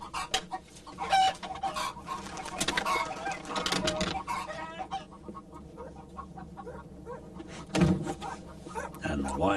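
Hens cluck and squawk in an excited, irregular chorus close by, with a narrator talking over them.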